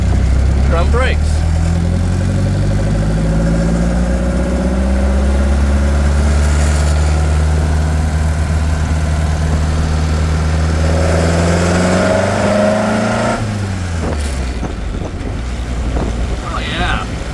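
A 1928 Ford Model A race car fitted with a four-port overhead valve head conversion revs its engine loudly up close, the tone climbing steadily and then dropping away near the end, with wind buffeting the microphone throughout.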